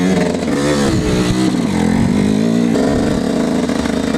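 A dirt bike engine revs loud and close as the throttle opens, a continuous growl whose pitch climbs and dips with the gas.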